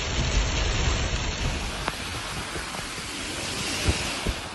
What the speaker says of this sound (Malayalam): Abu Dhabi, Dubai, Sharjah, Ras Al Khaimah അടക്കമുള്ള എമിറേറ്റുകളിൽ ശക്തമായ മഴ തുടരുകയാണ്